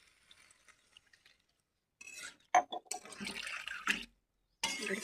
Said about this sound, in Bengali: এবার দিয়ে দেবো জল এক গ্লাস